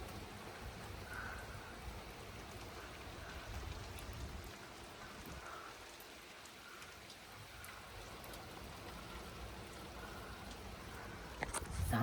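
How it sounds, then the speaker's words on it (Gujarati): Heavy rain pours outdoors in Leicester, UK, during a sudden turn in the weather, a steady broadband hiss of drops drumming on surfaces that stays fairly even throughout, with no speech over it. "જબરદસ્ત વરસાદ પડે છે."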